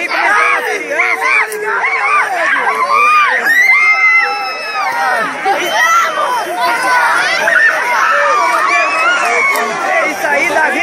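Football fans at a Paracatu match chant and cheer in a dense, loud crowd roar, high excited voices and shouts overlapping continuously for about eleven seconds, with a commentator's voice mixed in.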